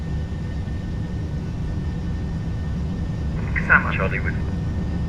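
Boeing 737-800 jet engines at takeoff thrust in a flight simulator game produce a constant low roar beneath a voice speaking.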